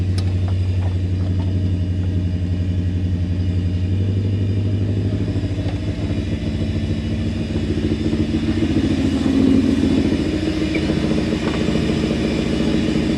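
A Toyota 1UZ V8 in a Land Cruiser runs at a steady, rough idle, with a constant low throb, some clatter and a slight rise in revs partway through, heard close up with no talking.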